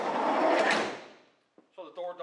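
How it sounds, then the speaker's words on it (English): The sliding door of a 1991 Volkswagen Vanagon rolls along its track with a long rushing slide, followed by a sharp latch clunk, after which a person starts talking. "So the door does shut, open and close. It's obviously a slider."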